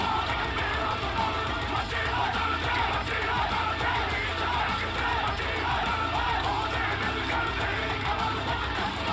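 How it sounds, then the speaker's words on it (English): Harsh, sustained screaming vocals from the Bloodywood song Machi Basahd, a dense, loud, unbroken wall of sound with crowd-like yelling mixed into heavy band noise throughout. "amazing scream at that point."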